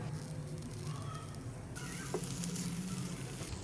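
Chicken samosa filling is stir-fried in a pan, giving a close, continuous sizzle with faint stirring and a slight rise in hiss partway through, with no talk.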